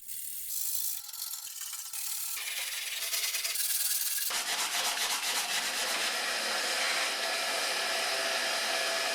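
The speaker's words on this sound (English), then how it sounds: "I sanded it back with 80 grit sandpaper and a lot of sweat" Steady abrasive rasping of 80 grit sandpaper worked over bare metal in a BMW E30 325 Touring engine bay, loud and continuous with shifting strokes that grow harsher and denser partway through, no voices.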